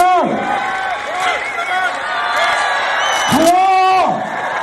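A crowd at the Arnold Classic 2018 bodybuilding contest in Canada cheers for a competitor, loud whoops and shouts swelling in waves, with a close voice calling out among the noise.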